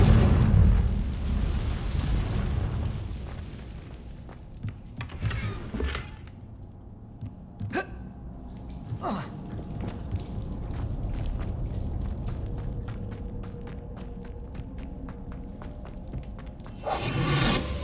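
A Confringo fire spell explodes in the video game Hogwarts Legacy: a heavy booming blast opens, then sharper pops and bursts sound over a steady rumbling background, and another blast comes near the end.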